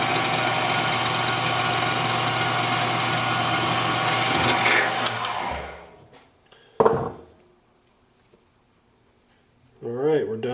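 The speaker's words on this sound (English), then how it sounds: "Alright, we're done punching our center holes." A machine punches center holes in metal gyroscope parts with a steady, loud mechanical hum for about five seconds. It then winds down to near silence, followed by a single sharp clunk and a brief voice.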